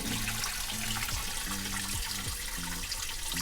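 Fuel draining from the tank of a 2004 Honda CBR 600RR motorcycle, a continuous liquid pour and trickle over rhythmic low tonal knocking in the background, no voices.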